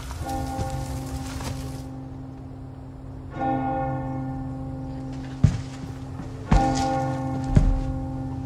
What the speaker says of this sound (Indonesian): berjalan melewati rumah ke arah bunyi bel gereja tersebut